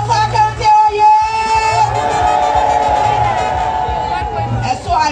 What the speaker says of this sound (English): Can we clap for the President again?